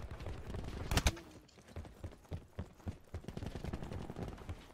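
Gunfire in Call of Duty Black Ops 4 multiplayer, a couple of sharp loud shots followed by faint rapid bursts and scattered pops at a distance.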